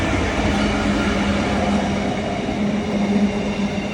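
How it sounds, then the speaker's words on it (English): Freightliner freight train passing close at Harringay Green Lanes, a loud continuous rumble of wagons rolling by with a steady low hum and rhythmic wheel clatter, no voices. "Oh my gosh, I was almost going to miss this freight train completely."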